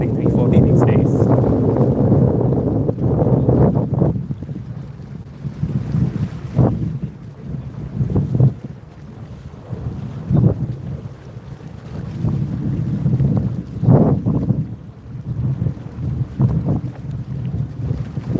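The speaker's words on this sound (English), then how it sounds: "it's become quite windy since I've been here" Wind gusting at Sydney Airport, rumbling across the microphone in uneven bursts over about eighteen seconds, loud and close, with a voice speaking faintly at times.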